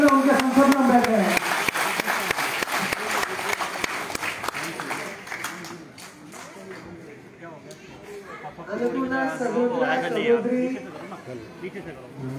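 An audience at a Jan Ashirwad Sammelan rally in RK Puram breaks into loud, sustained applause mixed with chatter, which fades and then swells again, with voices speaking over it.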